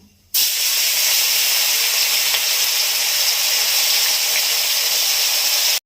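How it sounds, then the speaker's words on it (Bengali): Small mourola fish frying in hot oil in a kadai wok give off a loud, steady hiss and sizzle. It starts abruptly and runs unbroken, close by, with no talking. "তেল গরম হয়ে গেছে, মাছগুলো ভেজে নেব।"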